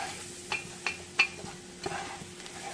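A spoon scrapes and clicks against a skillet while a flour and butter roux is stirred, a few distinct knocks over a faint steady sizzle.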